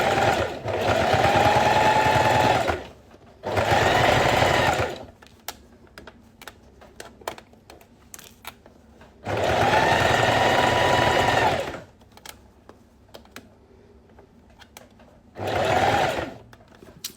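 A sewing machine stitches a zipper into a school pencil pouch in four bursts of rapid whirring, each lasting a second or two, separated by quiet pauses filled with small clicks and handling sounds.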